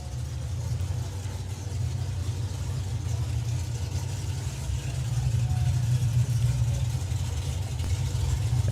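A supercharged outlaw drag racing car engine drones low and fairly distant at a drag strip, a rumbling idle that swells slightly in the second half.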